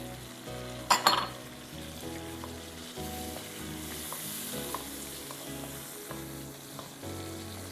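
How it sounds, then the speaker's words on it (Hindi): Blended tomatoes sizzling in a pan with spiced masala for a boneless chicken gravy, a steady moderate frying hiss with a sharp clink of a utensil early on and soft stirring, over background music. "इसके बाद आप इसमें शामिल कर देंगे 2 टमाटर ब्लेंड किए हुए"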